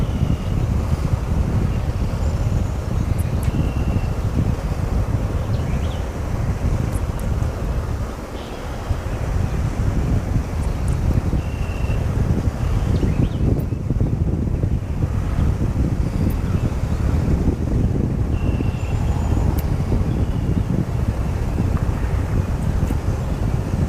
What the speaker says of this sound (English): Wind slowed down.